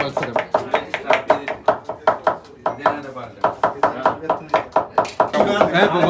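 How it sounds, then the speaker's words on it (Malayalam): Onions chopped with a knife on a board during an onion-cutting contest: a fast, even run of sharp chops, about three per second, loud and close, with a brief pause midway. "ഉള്ളി അരിയിൽ മത്സരം ഇതാണ്"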